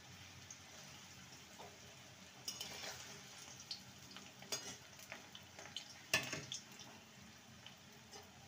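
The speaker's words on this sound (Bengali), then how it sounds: "মিডিয়াম ফ্লেমে এগুলোকে ভেজে নিতে হবে" Chushi pithe fry in hot oil over a medium flame with a quiet, steady bubbling sizzle. Occasional soft clinks and stirring taps come through it.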